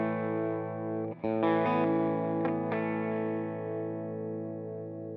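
An electric guitar played through a multi-effect unit's AC30 amp model gives sustained chords with mild breakup, a brief gap, then a few strums and picked notes that ring out and slowly fade.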